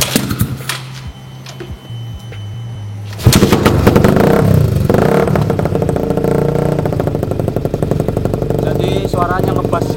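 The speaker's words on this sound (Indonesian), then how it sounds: "jadi ini adalah suara knalpot BRS" An old Honda CB150R kick-starts after a few seconds of quiet, then idles and revs through an aftermarket BRS exhaust with a deep, rumbling note that stays loud and close.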